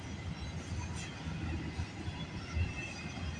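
A westbound CN auto rack freight train rolls past trackside at the Sarnia VIA station in Ontario, a steady low rumble of wheels and cars that holds throughout with a few heavier thumps.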